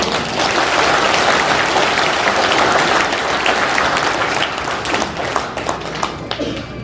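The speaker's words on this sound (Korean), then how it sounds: "여러분 큰 박수로 좀 격려해 주십시오." Sustained, loud applause from the audience at a clan association's 2023 extraordinary general meeting, a dense wall of clapping that stays steady throughout and thins slightly near the end.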